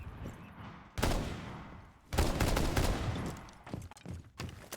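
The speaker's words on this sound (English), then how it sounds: "A lot of gunfire coming out from everywhere." Bursts of rapid gunfire erupt from several directions during a team-based competitive video game match, loud and dense with short pauses between volleys and no talking.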